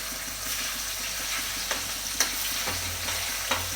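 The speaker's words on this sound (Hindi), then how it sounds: "5 पीस करके मैं फ्राई करूँगी।" Fish pieces for a fish curry fry in hot oil, giving a steady close sizzle with occasional sharp spatters and pops, no voices over it.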